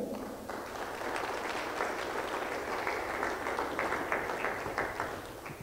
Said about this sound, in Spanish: Palmas para esta gran mujer.